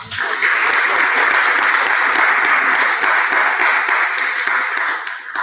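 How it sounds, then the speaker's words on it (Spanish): An audience applauds a teacher at a university talk on Afro-Colombian history, a loud dense burst of clapping with some sharper individual claps, easing off slightly near the end. "Con un aplauso al maestro"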